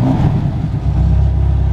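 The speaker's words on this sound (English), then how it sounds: "we're gonna go ahead and fire it up now, foot on the brake." Ferrari Portofino M twin-turbo engine, in sport mode, roars loudly and close, a deep rumbling rev that dips briefly and then settles into a strong, steady growl.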